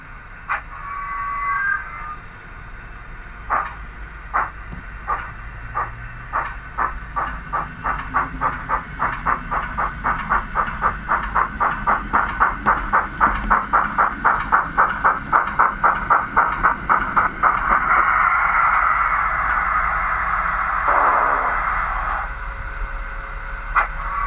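A Bachmann GWR 94xx model steam locomotive with DCC sound chuffs in a steady rhythm that speeds up and grows louder, with a brief whistle near the end. Close and clear, no talking.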